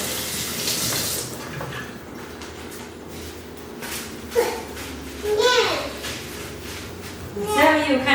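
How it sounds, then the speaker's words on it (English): Tap water runs into a kitchen sink as someone washes their hands while cooking steak with chopped onions, a steady splashing stream beneath a voice and brief children's chatter nearby. "I'm washing my hands."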